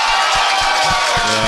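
A live podcast audience fills the room with dense, steady applause and scattered cheers, sustained throughout at close, loud level.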